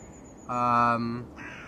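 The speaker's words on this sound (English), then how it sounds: "Hello, crows." A crow gives one loud, harsh caw close by, lasting under a second and trailing off, set against a quiet outdoor background.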